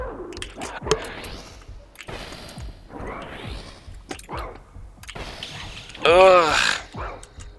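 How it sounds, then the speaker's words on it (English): A hostile dog in the video game Lunacid makes a short burst of barking or growling near the end, between sharp whooshes and impacts, with a player's brief grunt nearby. "Damn dog."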